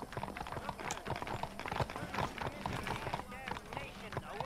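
In Red Dead Redemption, horse hooves clip-clop in a quick galloping rhythm. Busy game sounds surround them and voices talk over them.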